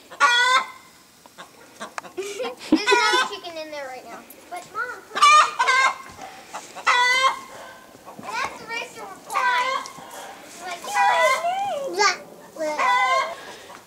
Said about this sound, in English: Boy, that chicken is raising a racket